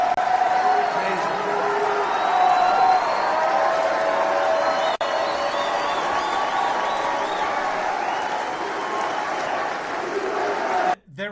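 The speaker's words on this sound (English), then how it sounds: "They're applauding. They're applauding this." A crowd at the CPAC political conference applauds in a steady, dense wash of clapping and cheering that fills the whole stretch, with voices mixed in beneath it.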